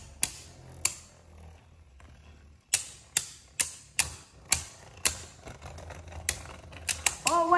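Beyblade Burst spinning tops launched into a plastic stadium give off sharp, irregular clacks as they collide, with a faint whirring hum between hits and a quick rattle of impacts at the end.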